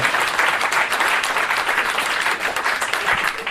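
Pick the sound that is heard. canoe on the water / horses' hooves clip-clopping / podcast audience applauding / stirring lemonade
podcast audience applauding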